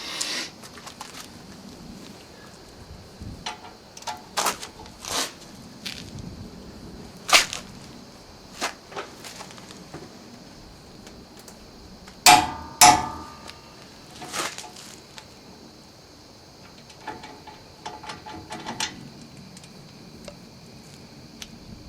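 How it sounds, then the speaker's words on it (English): Clicker torque wrench on the front brake bolts of a 1995 Ford F-250 4x4, giving a string of sharp, close ratchet ticks and clicks, with two loud snaps near the middle. "I just got one of these clicker wrenches."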